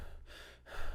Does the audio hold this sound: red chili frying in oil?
no